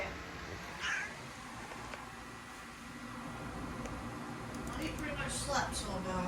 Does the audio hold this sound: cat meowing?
yes